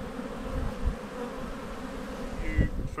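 Honey bees buzz at a hive during an autumn swarm with two queens, a continuous low droning hum with a few louder passes close by and some faint handling noise near the end.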